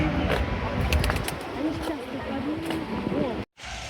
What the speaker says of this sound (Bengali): পাশেই কবুতর আছে অনেক।